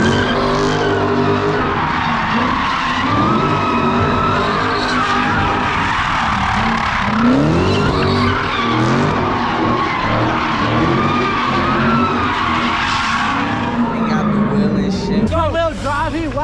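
Car tires squeal and skid in a burnout at a Philadelphia street car meet, engines roaring loud and close while a crowd chatters and shouts underneath.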